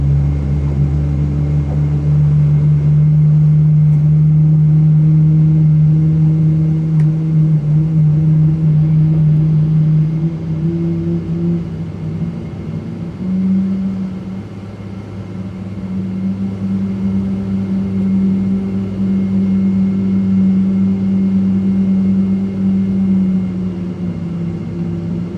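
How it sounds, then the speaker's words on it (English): Twin GE90 engines of a Boeing 777-200 roar loudly and steadily through the cabin during the takeoff run, a heavy low rumble that eases slightly partway through, with no talking. "yeah, the wonderful GE90 engines"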